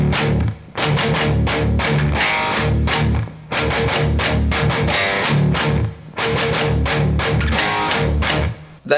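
A heavy distorted electric guitar riff plays loud and dense, with chugging palm-muted notes, quick pickup notes and inverted power chords in repeating phrases, broken by short gaps.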